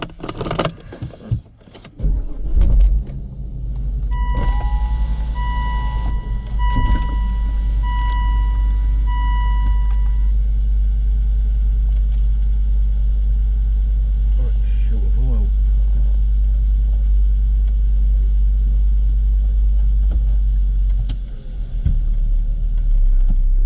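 A Volvo with a manual gearbox on a test drive: keys jangle and a door or handling noise come first, then a steady low engine and road rumble from inside the car runs for most of the clip.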